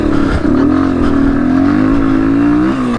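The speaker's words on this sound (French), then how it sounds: "La clutch qui fait des toc-toc." Honda XR200 dirt bike engine with a knocking clutch, revving hard and close throughout a rural motocross race at a farm track, a loud, steady buzzing drone with brief dips as the throttle shifts.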